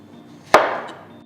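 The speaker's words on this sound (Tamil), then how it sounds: "3 பெரிய உருளைக்கிழங்க 2ஆ வெட்டுங்க." A knife chops through a large potato, cutting it in half with a single sharp thwack on a cutting board, followed by a short fading resonance and no voices.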